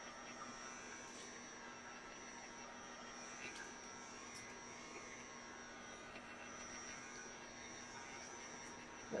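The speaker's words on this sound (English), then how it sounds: "No making fun of my heat gun." A small heat gun blows hot air to dry pink liquid acrylic ink on paper, giving a steady, fairly loud whirring roar with a constant hum that runs unbroken and has no speech over it.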